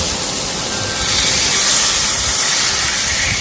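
Fish frying in butter in a pan gives a loud, close, steady hiss and sizzle, bright and unbroken throughout, swelling slightly as the fillet is flipped, with no talking.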